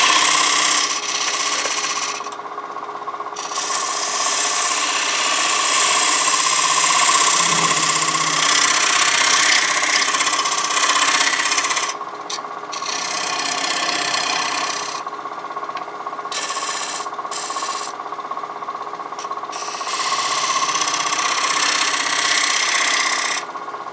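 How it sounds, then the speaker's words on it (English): A small skew chisel cuts a dovetail recess in wood spinning on a lathe, a loud continuous motor hum with a rough scraping cut that fades and returns in several passes. "A small skew to make a nice sharp dovetail."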